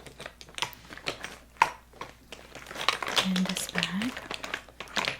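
A crinkly plastic bag full of makeup items rustles and crackles in close, irregular bursts, intimate and crisp, while a soft voice talks over it.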